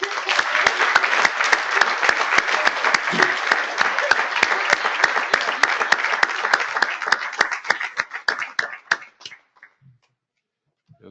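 Audience applause for award winners at a conference plenary session, a dense roomful of clapping holding steady for about eight seconds before thinning into scattered claps and fading out.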